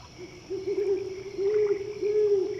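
An owl hoots in a series of clear, mellow calls close by, with short gaps between them, over a faint background of night insects.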